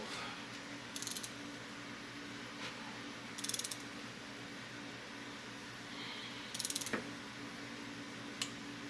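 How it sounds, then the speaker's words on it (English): A Harbor Freight torque wrench ratchets in short, quiet clicking bursts while intake manifold bolts are tightened on a 1968 Ford 302 V8, the bursts spaced a few seconds apart against a faint background hiss. "that is 10 foot-pounds right there, according to my Harbor Freight torque wrench"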